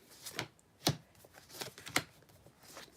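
A deck of tarot cards being shuffled by hand, a quiet series of crisp riffling flutters and soft snaps in irregular bursts, close and alone.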